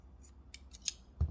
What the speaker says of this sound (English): carefully cut all of these pieces together